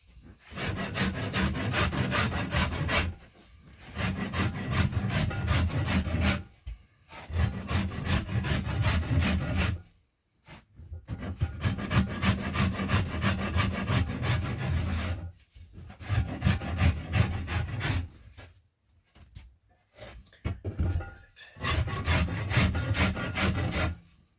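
A blade scrapes a yew longbow stave in repeated bursts of close, rasping strokes, each run lasting a few seconds and separated by short pauses, with no voices.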